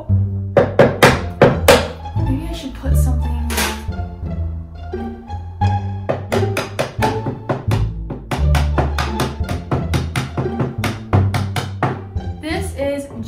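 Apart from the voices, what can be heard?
small hammer crushing beads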